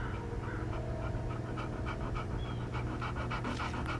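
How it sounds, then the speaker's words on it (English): A dog panting steadily in the action game Hell is Us, rapid rhythmic breaths close by, with faint whimpering tones over a continuous background hum and no talk. "I found the poor pup whimpering alone in a house"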